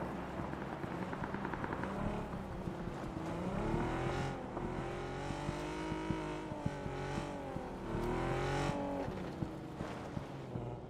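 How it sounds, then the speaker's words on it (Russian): A car engine in the game PUBG drones close by and revs up and down in wavering sweeps over about eleven seconds, with faint clicks scattered over it. "Машина."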